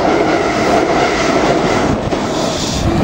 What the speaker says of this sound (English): First train of day at Royston.